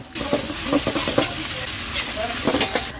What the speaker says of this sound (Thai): หลังจากที่เราใส่เส้นใหญ่ลงไปแล้วก็ผัดทุกอย่างให้เข้ากัน